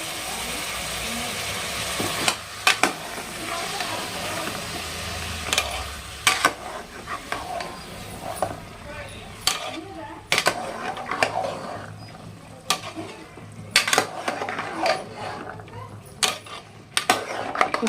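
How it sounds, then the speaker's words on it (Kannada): A spoon scrapes and clanks against a metal pan while pav bhaji vegetables are stirred, with irregular sharp knocks and scraping spread over the stretch and a voice talking at times underneath. "ಎಲ್ಲ ಹಾಕಿ ಇವಾಗ ಒಂದ್ಸಲ ಮಿಕ್ಸ್ ಮಾಡೋಣ್ರಿ"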